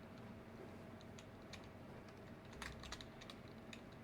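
Quiet, close typing on a computer keyboard, with scattered key clicks that bunch into a brief quick burst partway through, and no voices.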